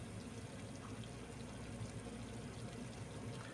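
Liquid poured steadily onto an Omani-style incense mixture of crushed aromatic ingredients, a soft continuous trickle with no pause and no talk over it.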